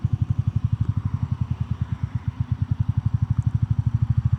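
Royal Enfield Meteor 350 Aurora motorcycle riding at low speed, a steady thumping single-cylinder beat, close and even, with no talk.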